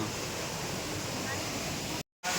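A steady, rushing roar of falling water, broad and continuous like a nearby waterfall, cutting out briefly near the end.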